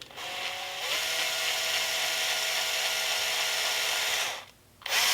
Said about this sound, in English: And now we're going to start drilling.